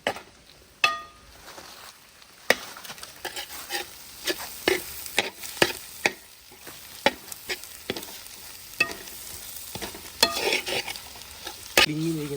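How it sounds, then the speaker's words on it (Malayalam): Coriander powder is stirred in a heavy-bottomed pan for a Kerala pork roast, a series of sharp irregular scrapes and clacks of a spoon over a faint sizzle, close and alone with no voices. "ഇനി നമ്മൾ പൊടിയുടെ പച്ചമണമൊക്കെ ഒന്ന് മാറുന്നിടം വരെ ഒന്ന് ഇളക്കി കൊടുക്കണം"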